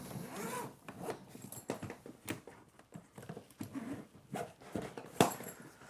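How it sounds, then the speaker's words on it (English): YKK zippers on a blue Level8 Road Runner Pro 20-inch carry-on suitcase being worked open and closed, a series of close, quiet raspy zips and tugs with small handling clicks. "These are YKK zippers, which is nice."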